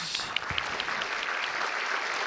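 Audience at a startup pitch competition semifinal applauding after a presentation, a steady, moderately distant wash of clapping with a few sharper individual claps near the start.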